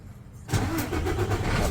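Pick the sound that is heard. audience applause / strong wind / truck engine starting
truck engine starting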